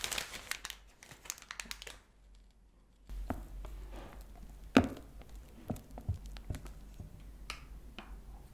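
A plastic piping bag for meringue cookies handled up close, with sharp crinkles and rustles in bursts, a quiet pause, then further crackling handling and a louder snap.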